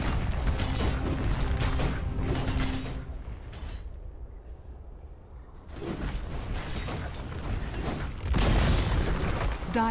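A tower is destroyed in Dota 2 with heavy booming crashes and rumbling debris. The sound comes in loud bursts, drops to near quiet for a couple of seconds, then surges back dense and full.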